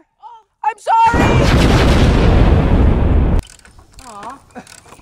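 A treehouse gives way with a loud, sustained crashing roar of breaking wood lasting over two seconds, then stops abruptly; excited voices shout before and after the collapse.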